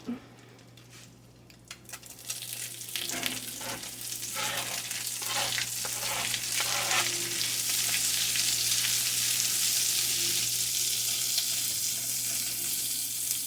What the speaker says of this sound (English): And I'm going to drop my onions into the skillet and get them sauteed up.